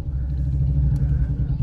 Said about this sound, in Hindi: यहाँ पे इतना ट्रैफिक लगा रहता है बहुत ज्यादा